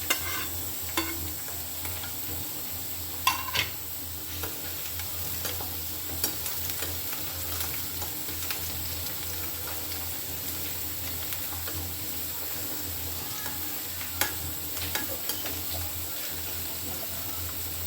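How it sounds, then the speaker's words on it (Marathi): Onion and chopped chili stir-frying in a pan for a Vidarbha-style greens dish, a steady low sizzle with occasional clinks and scrapes of a spoon stirring, close up and without talk. "आता आपण याच्यामध्ये टाकूया आपली ही कट केलेली मिरची."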